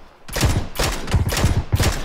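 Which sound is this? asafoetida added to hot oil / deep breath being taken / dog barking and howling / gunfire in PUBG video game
gunfire in PUBG video game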